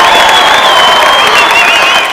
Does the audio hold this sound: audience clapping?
yes